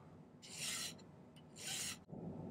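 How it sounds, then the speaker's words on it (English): Hand file squaring the end of a silver twist band flat at a right angle, two close rasping strokes about a second each, separated by a short pause and a faint click. "Just filing a 90 degree angle here, as flat as possible."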